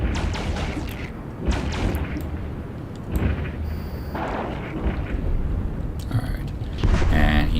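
Ship weapons fire repeatedly during combat in the space game EVE Online, giving a dense run of booming, artillery-like blasts that continue through the whole stretch at a steady, loud level.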